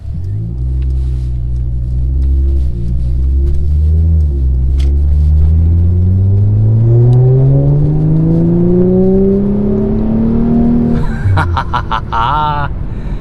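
A 2016 Mercedes-Benz C450 AMG sports sedan's engine revs up steadily with rising pitch, loud and close from inside the cabin, then a quick upshift as the tone drops and resumes.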